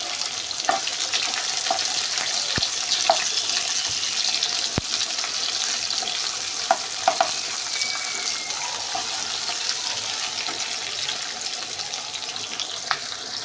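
Chopped tomatoes and onions frying in a pan for chicken thokku biryani give a dense, even sizzle throughout, with a few faint clicks and taps from the utensil, close and steady, with no talking.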